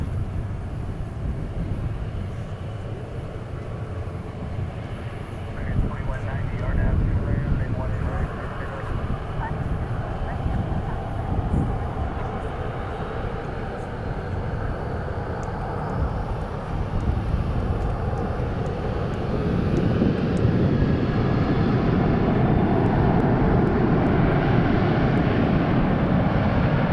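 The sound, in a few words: Boeing 737-800 airliner at DFW airport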